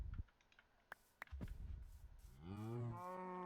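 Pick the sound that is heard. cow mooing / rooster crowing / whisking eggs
cow mooing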